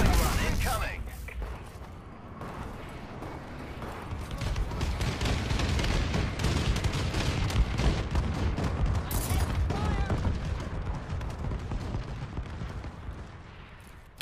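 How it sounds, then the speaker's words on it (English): Enemy bombing run in a video game: a dense, continuous barrage of explosions and gunfire-like booms that rumbles for the whole stretch, loud and steady with no clear breaks. "Enemy bombing run incoming!"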